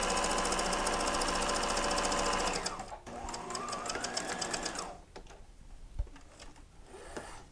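Sewing machine running steadily for about two and a half seconds as it stitches a zigzag finish along a seam on an upcycled peplum blouse, then stopping and followed by quieter fabric handling.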